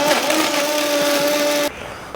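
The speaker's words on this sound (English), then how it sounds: "So I am going to throw these 4 pieces of bread into the blender." A blender grinds four pieces of bread into breadcrumbs, a loud, steady, close motor whir with a constant hum that cuts off abruptly near the end.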